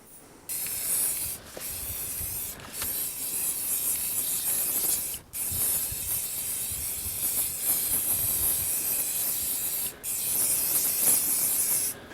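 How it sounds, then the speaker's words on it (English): A spray paint can hisses in long continuous bursts while painting a steel wheel, broken by a few short pauses between passes, close and steady. "Turn the paint upside down every now and again, the can, and spray it"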